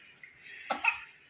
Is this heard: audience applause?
no